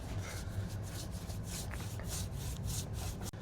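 Sanding or rubbing strokes lightly distress a painted transfer on a wooden Lazy Susan, a steady close scratchy rasp with repeated back-and-forth pulses and no talk.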